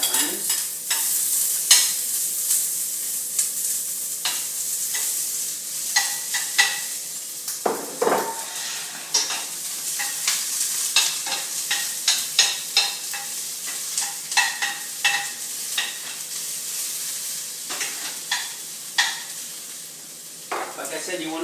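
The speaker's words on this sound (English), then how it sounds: "Now that I have my oil nice and hot, I start sauteing my onions." Onions sauté in hot oil in a pan, giving a steady close sizzle that is broken by frequent clinks and scrapes of stirring throughout.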